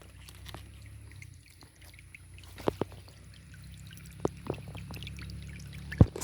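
Spring water at the source of the River Ethiope flowing out from under tree roots, a soft trickling pour with a few sharp splashes and knocks, heard close with no talking.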